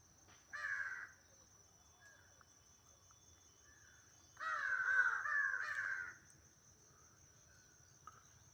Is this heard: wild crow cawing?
yes